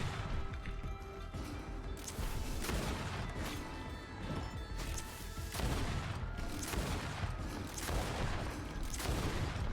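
Dense, continuous gunfire rattles while a creature is shot in the Greedfall video game, with sustained bursts and heavy impacts, loud and without letup.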